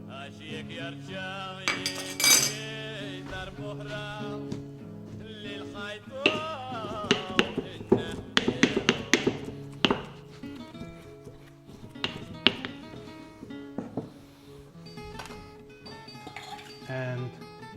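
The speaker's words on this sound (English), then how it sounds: "after you crush all the pine nuts, the basil, the spinach and the little salt" Pine nuts, basil, spinach and coarse Maltese salt crushed for pesto alla genovese, with irregular clinks, knocks and grinding taps at close range, busiest in the middle and scattered toward the end.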